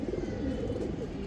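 A giribaz high-flyer pigeon with cream-coloured eyes coos softly at close range in one brief, continuous, low throaty burst.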